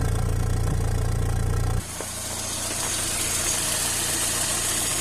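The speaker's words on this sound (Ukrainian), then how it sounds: "Двигун працює рівненько" A car engine fitted with a Solex carburetor, not yet fully warmed up, idles close by with a steady low hum. It drops abruptly partway through to a quieter, even running sound.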